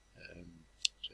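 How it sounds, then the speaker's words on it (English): A single sharp computer mouse click sounds near the end, close and faint, following a brief stretch of talking. "click that button"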